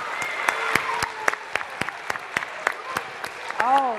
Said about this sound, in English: let's give them a big round of applause while they take a bow